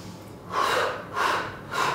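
Forceful exhales during a breathing exercise for post-COVID recovery: three strong, rhythmic breaths about half a second apart, close and loud, each a rushing breathy burst.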